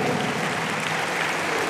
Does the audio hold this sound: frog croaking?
no